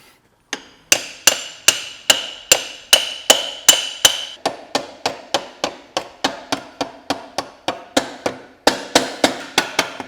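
A hammer drives a motorcycle wheel spindle through the back wheel in a long run of steady, evenly spaced metallic blows, loud and close, with a brief pause before a final quicker burst.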